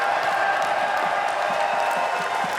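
A festival crowd at the Bloodstock metal festival cheers and chants for Lemmy, a dense, steady roar of many voices heard from a distance and held at an even level throughout.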